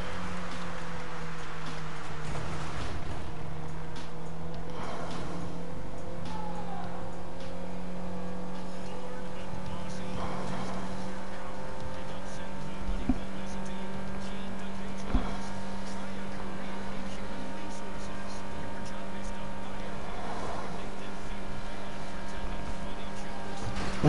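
A speedboat engine drones steadily in the video game GTA V, a continuous low hum with faint ticks and knocks throughout, running unbroken under a voice at moderate loudness.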